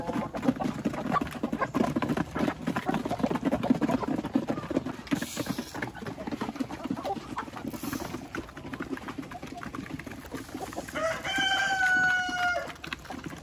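Rhode Island Red chickens in a breeding pen cluck and patter steadily up close, and a rooster crows loudly near the end over the busy flock.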